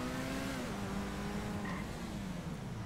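A car in GTA 5 is driven slowly and maneuvered into a parking spot, its engine humming steadily with a falling pitch as it slows, plus a brief tire squeal, close and without talk.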